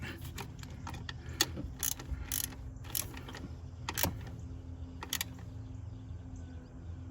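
A ratchet tightens the ignition coil bolts on a GMC Yukon engine, giving several short bursts of rapid clicking at irregular intervals over a low mechanical hum, close and fairly loud.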